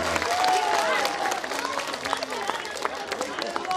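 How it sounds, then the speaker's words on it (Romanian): Outdoor crowd applause at a village festival show honouring a couple's 50th wedding anniversary, brisk clapping with some cheering and chatter mixed in. "Vă rog să aplaudați"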